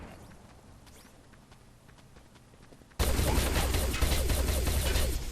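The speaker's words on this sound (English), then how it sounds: "Grenade!" Gunfire and a loud explosion in a first-person shooter match, quieter scattered shots and footsteps giving way to a sudden, sustained roar of blasts and rapid fire that stays loud to the end.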